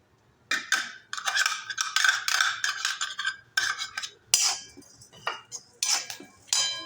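Coriander leaves being fried and stirred into a roasted coconut filling for bhakarwadi, heard as a spatula scraping and clinking against the pan in repeated close strokes, with no talk.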